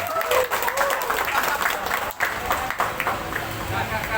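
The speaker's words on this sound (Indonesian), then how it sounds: "Tepuk tangan dulu gitu nih." An audience at an informal coffee gathering bursts into applause, dense clapping that fills the whole stretch, close and loud, mixed with crowd murmur and voices.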